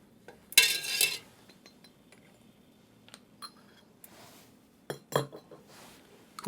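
Glass jars and metal lids clink during maple syrup jarring, with a loud rattling clatter near the start, then scattered light taps and a couple of sharp clinks toward the end, close and with no talk.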